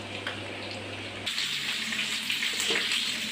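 Basmati rice, washed three or four times, tips into a pot of water for dum biryani, making a steady watery gush and splashing that continues throughout.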